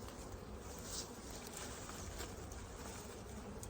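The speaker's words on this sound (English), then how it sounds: "I can hear a bit of a buzz from these bees already" A steady swarm of bees buzzing continuously, a soft, even drone with no voices.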